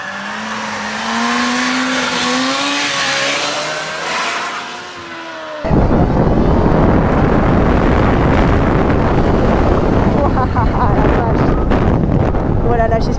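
A Kawasaki turbo motorcycle climbs through rising engine tones, then a sudden surge of loud acceleration brings heavy wind roar that continues to the end, with someone talking over it.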